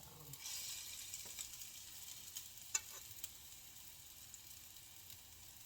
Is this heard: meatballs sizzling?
yes